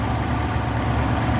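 A Rover P5B coupe's 3.5-litre V8, a Hemi block shared with the P6, idles with the bonnet open, giving a steady, close, low rumble with no talk over it.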